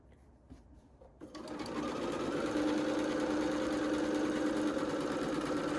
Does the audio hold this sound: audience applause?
no